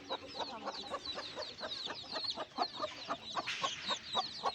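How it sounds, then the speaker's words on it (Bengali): Four hens that have just hatched chicks cluck close by in repeated rhythmic bursts, mixed with a dense chorus of high chick peeps. "আমার চারটি মুরগি একসাথে বাচ্চা ফুটিয়েছে"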